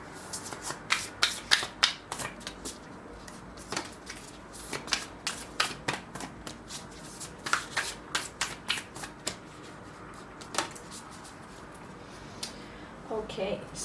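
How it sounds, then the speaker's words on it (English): An oracle card deck is shuffled by hand in repeated quick riffles and rubbing bursts, close and fairly quiet, with short pauses between passes. "So I'm going to shuffle it once again"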